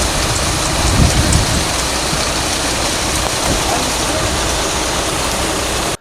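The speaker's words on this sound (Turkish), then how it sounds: "Karabük'te sağanak yağmur etkisini devam ettirdi." Heavy downpour of rain in Karabük, Turkey, with flooded roads, making a loud, steady, unbroken hiss of rain pounding surfaces throughout.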